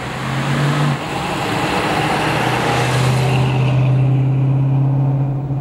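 A 1973 Plymouth Cuda with a 5.9L V8 drones loud and steady while driving, its engine note rising slightly as it pulls in second gear above 3,000 RPM, heard close from inside with no talk.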